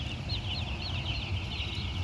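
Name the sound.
broiler chickens clucking in a coop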